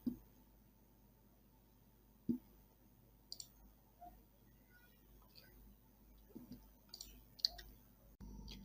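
Computer mouse clicks while working through Facebook settings: a few sharp, isolated clicks spaced seconds apart, quiet against a low background hum.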